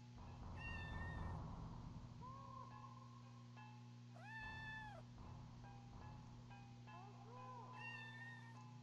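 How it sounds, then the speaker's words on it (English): A cat meows repeatedly in the video game OFF: three drawn-out, rising-and-falling meows spaced a few seconds apart, sounding clear over a steady low electronic drone from the game's soundtrack. "Oh wow, he's meowing"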